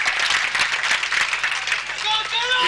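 A political rally crowd at a Congress Sandesh Yatra in Rajasthan claps, a dense wash of applause with loud talking over it throughout.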